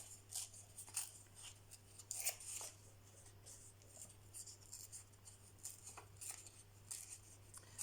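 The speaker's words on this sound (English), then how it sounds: "So I'll just scruffily tear along the edges." Graph and ledger papers torn by hand along their edges, giving faint, scratchy rips that come in short bursts and pauses over a low steady hum, with no talking.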